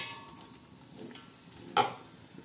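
Biryani masala with tomatoes and coriander is stirred in a pan over a faint sizzle, soft scraping ending in one sharp metallic clink, with no voices.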